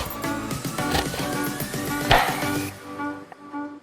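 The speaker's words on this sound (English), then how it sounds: "Similarly, start chopping carrot into long pieces." A few scattered knife chops through a carrot on a cutting board, sharp and close, over steady background music.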